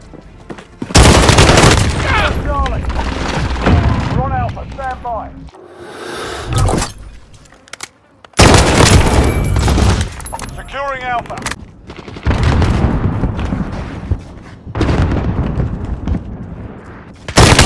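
Heavy Call of Duty Modern Warfare battlefield gunfire, dense automatic bursts and booming shots in long loud stretches, broken by short lulls, with radio-style voices calling out over the fighting.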